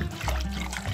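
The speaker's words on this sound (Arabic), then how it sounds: "كده هننزل باللبن على الدقيق السمنه" Milk poured onto flour and ghee in a pan while making béchamel for a potato bake, a steady close liquid trickle and pour running for about a second.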